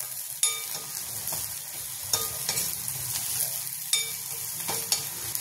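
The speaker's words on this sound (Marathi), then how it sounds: "तर अशा प्रकारे जिरा आणि कांदा होऊ द्यायचा. गॅस फुल राहू द्यायचा." Cumin and onion fry in hot oil over a full flame, a steady close sizzle broken by sharp spoon scrapes and clinks every second or two as the pan is stirred.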